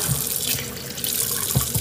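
Water runs steadily from a tap on a goat farm in the Philippine countryside, close and fairly loud, with a continuous splashing gush and no talking.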